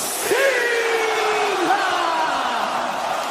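Huge rabid arena crowd at WWE Clash in Paris, a steady roar of cheering and yelling with rising whoops, loud and continuous under a commentator's voice.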